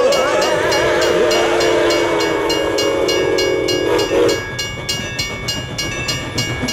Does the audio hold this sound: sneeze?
no